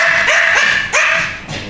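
Dogs barking at a small dog-owners' gathering: a few quick, sharp, yapping barks close by, repeating in short bursts with no talk over them.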